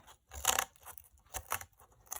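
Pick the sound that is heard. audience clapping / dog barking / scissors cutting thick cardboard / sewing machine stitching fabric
scissors cutting thick cardboard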